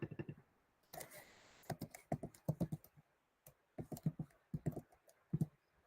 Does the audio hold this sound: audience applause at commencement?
no